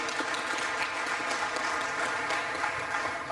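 Audience applause at a sponsor acknowledgment during the AIS14 conference in Djibouti, a steady, dense wash of clapping from a large crowd sustained throughout without a break.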